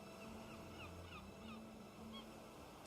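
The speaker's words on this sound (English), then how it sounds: "sound of life, birds." Birds calling high overhead, a series of short honking, goose-like calls repeating every half second or so over a steady, faint outdoor wash resembling distant surf, with no voices.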